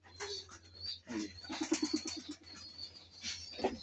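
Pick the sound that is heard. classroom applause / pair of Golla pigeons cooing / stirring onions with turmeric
pair of Golla pigeons cooing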